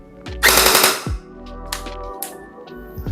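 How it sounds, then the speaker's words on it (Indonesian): A TTI TR-1 gel blaster fires a short full-auto burst of rapid, loud, close shots, followed by a few single mechanical clacks and a low motor whir. "Gue nggak bisa nembak lama-lama karena udah malam nih."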